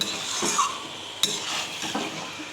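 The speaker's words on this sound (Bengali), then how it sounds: "সুন্দর করে নাড়তে হবে মাংসটাকে" A spoon scrapes and stirs chicken meat in a pan for a chicken kadai, with soft clinks of metal and a faint sizzle underneath, one sharper knock midway.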